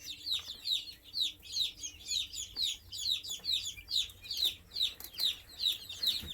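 Guinea fowl on a homestead farm in western Arkansas call in a rapid, repeating series of harsh, high-pitched cries, a steady rhythmic chorus at moderate distance.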